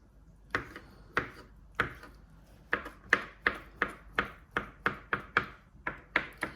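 Knife chops on a cutting board as boiled eggs are diced into cubes, a series of crisp, close taps coming in an uneven then quicker, steady rhythm with nobody talking.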